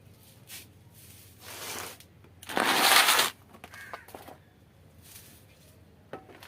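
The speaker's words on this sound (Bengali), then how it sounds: "এবার বন্ধুরা সাবধানে ডালটাকে আমি এর মধ্যে বসিয়ে দিচ্ছি" A rose-apple branch cutting is set into a pot of soil for a rooftop garden, with a few short, close scraping and rustling bursts of soil and pot handling separated by quiet pauses.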